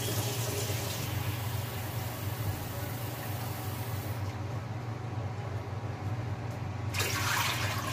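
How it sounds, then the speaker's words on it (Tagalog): Water pours steadily and noisily into a cooking pot for sinigang, a continuous rushing splash that briefly quiets before surging again. "So, ngayon, lagyan na natin ng tubig."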